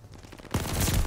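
Burst of light machine gun fire in a video game, a sudden loud rapid volley starting halfway through and running continuously to the end after a quieter stretch.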